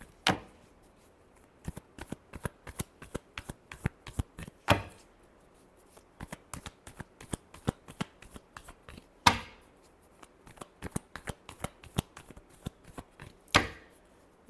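Playing cards shuffled repeatedly during a tarot-style reading, a steady run of sharp riffling taps with a few louder bursts spaced throughout, close and with no voices.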